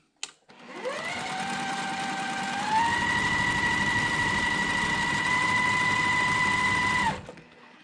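A sewing machine stitches red and white fabric for a quilt block in one continuous run of about six seconds. The motor whirs up quickly, steps higher partway through, then holds a steady, close hum until it stops.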